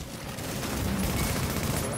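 Bursts of gunfire crackle in a video game, a dense rattling fusillade that holds steady and moderately loud for about two seconds with no voices over it.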